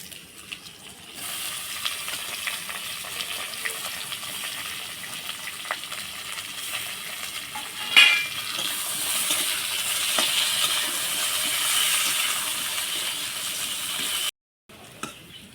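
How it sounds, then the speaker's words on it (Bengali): Sliced onion and papaya fry in a pan with low oil, a steady soft sizzle that continues throughout, with a sharp clink of a utensil midway and a brief dropout near the end. "পেঁয়াজ আর পেঁপে দুটোই ভাজা হয়ে গেছে"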